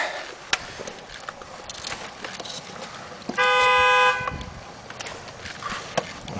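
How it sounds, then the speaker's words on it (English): A car horn sounds in one sustained, loud honk lasting under a second, heard outdoors near a parked 1989 Jeep Cherokee amid faint background noise and a few sharp clicks. "Honking their horn."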